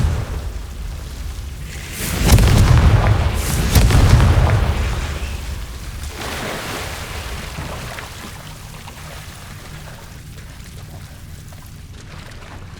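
A Confringo fire spell explodes in the Hogwarts Legacy video game, a loud booming blast with a rumbling roar that swells twice, then fades into a quieter ambient bed.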